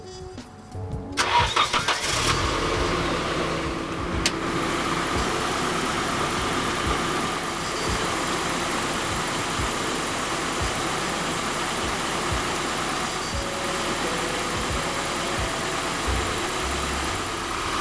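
A car engine cranks and starts, then runs at a steady idle to charge a tiny house trailer's battery through jumper cables, a continuous medium-pitched hum with no talk.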